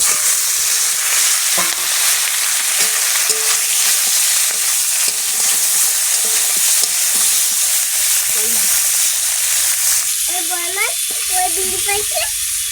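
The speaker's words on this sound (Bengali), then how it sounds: "মাছগুলো ভাজা হয়ে গেছে" Koi fish fry in hot oil with a loud, continuous sizzle and crackle, close by, with a few light clinks along the way. Voices talk briefly near the end.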